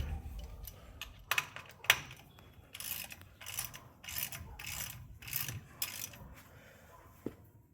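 A ratchet tightens the brake caliper mounting bolts on a 1958 GMC pickup during a disc brake conversion, with bursts of quick clicking strokes separated by short pauses, close and moderately quiet.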